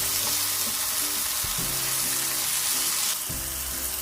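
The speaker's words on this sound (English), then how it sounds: "you want to caramelize those mushrooms before you turn the heat off" Mushrooms fry in a pan with oregano and a pinch of salt, giving a constant close hiss and sizzle, with occasional low clunks of stirring in the pan.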